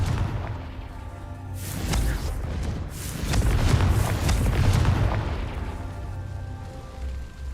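Fiery Confringo spell blasts in the video game Hogwarts Legacy, a series of deep rumbling booms with sharp cracking bursts swelling and overlapping, loud and near, with no talking.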